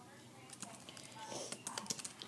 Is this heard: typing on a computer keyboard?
yes